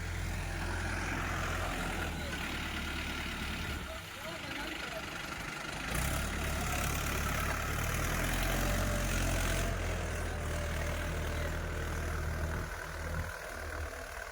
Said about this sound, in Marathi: संदीप पाटील आमचे बंधू हळदीचा वावर तयार करण्यासाठी ट्रॅक्टरचं काम करत आहे